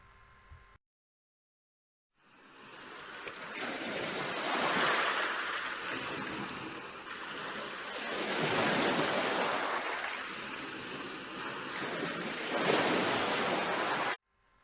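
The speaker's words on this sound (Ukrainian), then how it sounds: "Звуки моря." Sea waves surge and recede in three slow swells, a broad rushing wash that rises and falls over about twelve seconds after a short silent gap, then cuts off abruptly.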